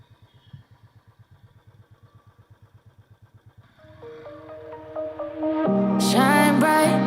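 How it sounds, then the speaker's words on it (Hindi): A motorcycle idles with a steady, even thump, then revs up as the ride begins. The engine rises in pitch and loudness as music swells in over the final seconds. "सत्यजीत ने अपना हेलमेट वापस ले आया है और चलो राइड शुरू करते हैं"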